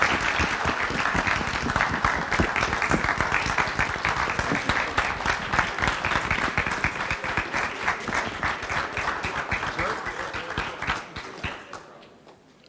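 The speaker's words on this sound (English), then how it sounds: "Ladies and gentlemen, one more round of applause for David and Tammy Friedman" Sustained, loud applause fills a dinner hall for honorees David and Tammy Friedman, a dense wash of many hands clapping that holds steady before tapering off near the end.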